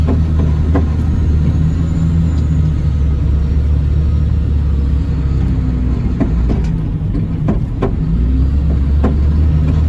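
A vehicle pulls up to a sand pile at a renovation site, its steady engine rumble close and continuous, with a few faint clanks and knocks over the drone.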